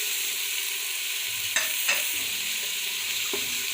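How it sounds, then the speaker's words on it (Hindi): Half a kilogram of chicken frying in hot oil for palak chicken, giving a steady, close sizzling hiss throughout with a couple of soft stirring knocks and no talking. "अब इसको 3 मिनट के लिए भूनने लगी हूँ, मैं इसको ब्राउन करने लगी हूँ।"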